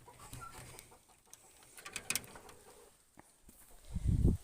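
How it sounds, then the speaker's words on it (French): Large hens and royal turkeys cluck and call faintly in an outdoor meadow pen, with scattered soft bird sounds and a louder rustle or flutter near the end. "Là, nous avons les grosses poules et les dindons royaux."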